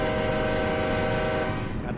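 A locomotive horn in the Run 8 train simulator blows one steady, loud tonal blast that holds through the whole moment, layered over the rumble of the moving train.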